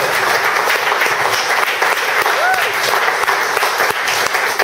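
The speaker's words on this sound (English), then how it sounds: "I just want to give a great big round of applause to Dr." Loud, sustained applause from a lecture audience thanking Dr. Flavio Villanustre after his talk on big data storage systems, with a thick wash of clapping that fills the room and murmuring voices beneath it.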